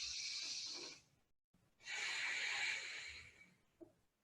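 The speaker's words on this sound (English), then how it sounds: "when you breathe out, keep the mouth closed, feel that fogging up in the back of your throat, your Ujjayi breath" Slow, deep Ujjayi yoga breathing through a closed mouth, a throaty hiss with a snore-like rasp at the back of the throat, heard as two long close exhalations separated by a pause, with no talking.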